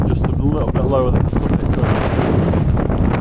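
Strong wind roars across a microphone on the summit of Helvellyn in gusts of around 60 mph, a steady loud buffeting that runs the whole time while someone talks close by.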